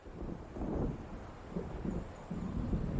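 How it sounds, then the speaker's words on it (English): Low rumbling thunder and wind of an approaching storm by the sea in the game Alan Wake, a steady dull roar with soft swells, no voices. "It seems there's a storm coming."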